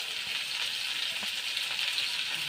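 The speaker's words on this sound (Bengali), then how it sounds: "হালকা একটু ভেজে নেব।" Potatoes lightly frying in oil in a home kitchen pan, with a steady, even sizzle and a soft hiss throughout and a few faint stirring clicks.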